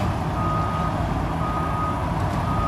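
A blue Volvo truck from Canada reverses into position to pick up its load, its engine rumbling steadily and loud up close while a reversing alarm beeps faintly under the noise.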